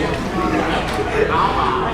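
Crowd murmur at a high school football pep event, a steady indistinct babble of many voices filling the space at moderate level, with a few nearer voices rising briefly above the hum.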